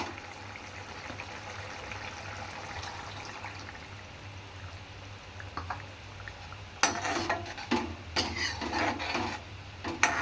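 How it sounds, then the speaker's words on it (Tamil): After a quiet simmering hiss, tamarind water is poured into a boiling pot in splashing bursts, close and fairly loud. "இப்போ நான் புளி கரைச்சலை தூக்கி இதில் ஊற்றுறேன்"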